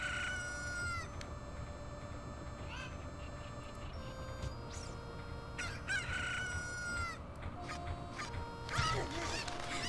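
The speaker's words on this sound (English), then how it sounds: "Those are chickens." Cucco chickens in The Legend of Zelda: Ocarina of Time Master Quest crow and cluck repeatedly, a string of sharp, rising calls in quick succession over steady game background sound.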